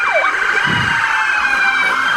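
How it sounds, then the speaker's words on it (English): Emergency vehicle sirens wail loudly during a Christmas parade, a close, continuous rising and falling electronic tone with a short low rumble partway through. "their sirens work, don't they?"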